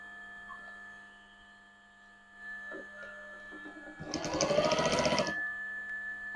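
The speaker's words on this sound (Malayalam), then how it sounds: "ഈ തയ്യലിൻ്റെ മുകളിൽ ഇത് വരുന്ന പോലെ നമുക്ക് ഇവിടുന്ന് തയ്ച്ചു കൊടുക്കാം, ഈ അറ്റത്തുനിന്ന്." Roughly a second of rapid, buzzing stitching from a sewing machine sewing a zip onto a cushion cover, fairly close, set against a quiet room hum with a few soft handling clicks before it.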